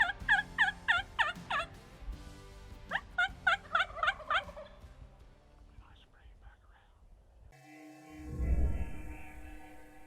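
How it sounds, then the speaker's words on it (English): A wild turkey gobbles back to a hunter's call, several sharp rattling bursts in quick succession, loud and fairly close, with a soft whisper and rustling following afterward. "this bird is standing 25 yards away in the wide open and watched it all and still even gobbled back"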